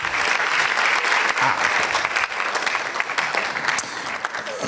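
Continuous, even applause from a crowd at the Ghana NSMQ 2025 science and maths quiz event, a full room clapping throughout without pause.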